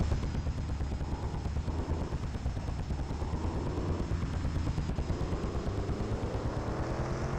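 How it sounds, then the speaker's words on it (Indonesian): A helicopter flies in a video game, a steady low rotor thrum that holds throughout, with occasional sharp gunfire-like pops mixed into the dense game noise. "Ada yang pakai helikopter ya."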